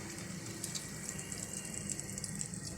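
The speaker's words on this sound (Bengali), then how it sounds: "এখন আমি এর ভিতরে এই বাটারটা ঢেলে দিচ্ছি" Butter is poured into a pan while making chicken tandoori, a faint, steady trickling pour that runs without a break and with no voices over it.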